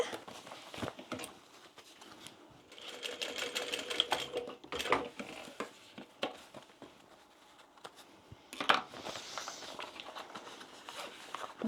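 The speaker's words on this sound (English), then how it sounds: "we're going to sew over there" Sewing machine stitching a bag in bursts: rapid mechanical needle clatter runs for a few seconds at a time, separated by pauses filled with handling noises, fabric rustle and light taps.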